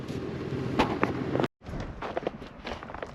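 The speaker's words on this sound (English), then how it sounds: "It's crazy windy." Gusty wind buffets the microphone outdoors in cold, thawing conditions, a rough rumbling roar with short bumps and a brief dropout in the middle.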